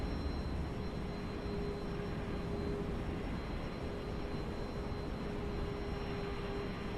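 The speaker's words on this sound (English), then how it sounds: "I heard another plane." Another airplane in Microsoft Flight Simulator 2024, a steady faint engine drone with a thin high whine, heard alone without speech.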